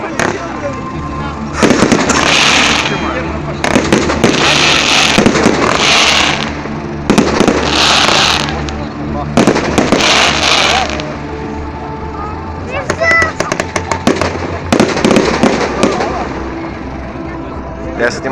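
A festival fireworks display at the Dniapro Voices event in Dubrovna: loud, repeated booming bursts and crackling volleys in steady waves, with people's voices in the crowd.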